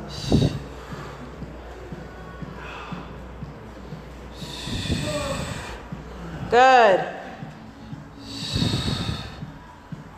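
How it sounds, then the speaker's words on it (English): Heavy, rhythmic panting breaths from people doing a full-out group workout, loud and close, with a trainer's voice calling out over them and a sharp rising squeak partway through. "Good breathing. Do you guys hear them breathing?"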